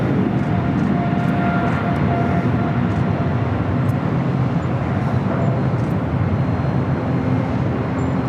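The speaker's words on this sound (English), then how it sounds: "China Airlines Cargo 777 freighter now rolling down at 25 left." A China Airlines Cargo Boeing 777 freighter rolls for takeoff on runway 25 left at LAX, its engines a loud, continuous broadband roar that holds steady throughout.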